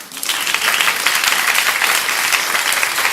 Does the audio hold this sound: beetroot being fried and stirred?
no